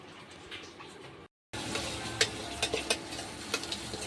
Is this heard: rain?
no